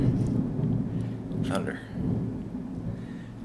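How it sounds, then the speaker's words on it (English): Thunder rumbles through a storm as a low, sustained roar, with a brief sharper crackle midway and someone speaking over it. "whoa, thunder"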